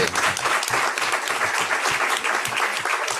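Steady, dense audience applause at a national meeting on cardiopulmonary exercise testing, continuous clapping filling a hall throughout.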